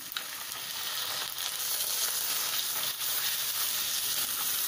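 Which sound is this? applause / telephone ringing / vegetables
vegetables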